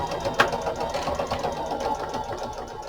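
A Singer Fashion Mate sewing machine stitches in reverse, sewing on paper with a lengthened stitch, giving a steady close-up mechanical whir with a sharp tick near the start and no voices.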